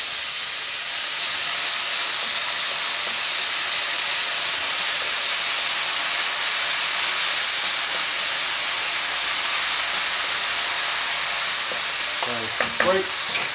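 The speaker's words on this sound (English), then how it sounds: "add some onions and some finely chopped red pepper. And I'm just going to sizzle that off quickly." Onions and finely chopped red pepper sizzle in flavoured oil over high heat for vegetable pilau rice, a steady close hiss and crackle running nearly unbroken, with a few stirring knocks near the end.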